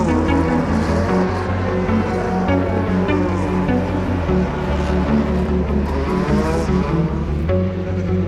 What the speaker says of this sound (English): Green flag, start of the first of 2 formation laps for 4 hours to start.